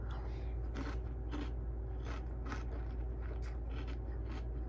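Magic Spoon cereal crunched while being eaten, a series of soft, irregular crisp bites and chews close to the mouth, quiet and with no talking.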